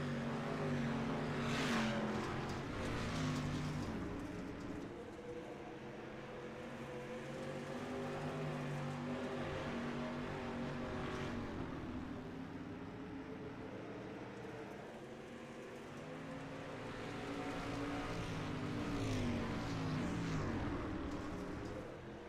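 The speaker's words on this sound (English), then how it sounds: "John Bennett really setting that one stock car into the turns nicely" Stock car engines drone continuously in an iRacing dirt street stock league race, a steady loud roar with rising and falling revs as the cars work through the turns, with no voices.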